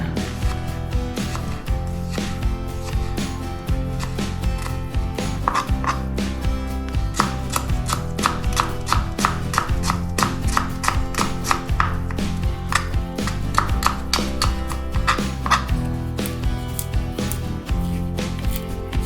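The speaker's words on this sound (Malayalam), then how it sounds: "ചുവന്നുള്ളി ഇങ്ങനെ കുരുകുരാന്നറിയാം." Red shallots being chopped finely with a knife on a board, a long run of rapid, crisp, evenly spaced knife taps close up, continuing steadily with no talk.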